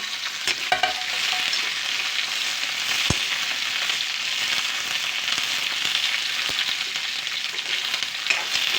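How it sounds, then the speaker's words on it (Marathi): Capsicum fries lightly in hot oil in a kadai, giving a steady close sizzle throughout with occasional scraping stirs and a sharp clink or two. "अशी बरी हलकी फ्राय करून घ्यायची आहे."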